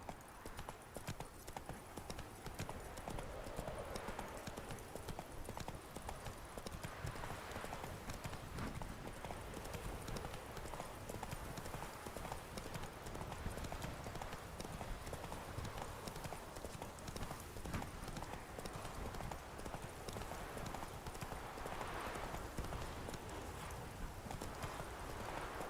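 Horse hooves clip-clop steadily while riding in The Witcher 3, a continuous close rhythmic patter lasting throughout with no pauses.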